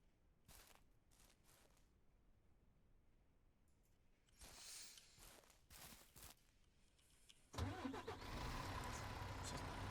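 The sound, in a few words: truck engine starting in video game Ranch Simulator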